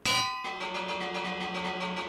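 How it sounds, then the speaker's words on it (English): A bell in Minecraft is struck once with a bright metallic clang, then rings on with a shimmering, slowly decaying tone and no talking. "Ring the bell."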